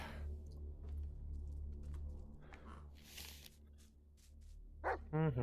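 A dog in the Blair Witch VR video game gives a short burst of barks close by near the end, after quiet rustling and a low steady background hum.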